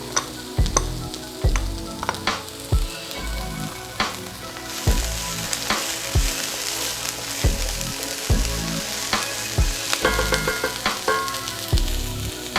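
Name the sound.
white part of green onions frying in pan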